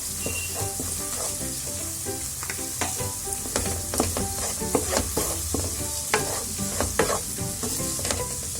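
Ground spices such as turmeric being stirred into softened tomatoes sautéing in a pan for palak paneer, with steady loud sizzling and repeated scraping strokes of a spoon throughout, no voices.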